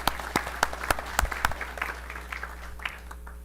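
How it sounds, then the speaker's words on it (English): A small group claps and applauds at a school board meeting, with sharp individual claps standing out, fading into scattered claps toward the end. "I just want to give you another round of applause."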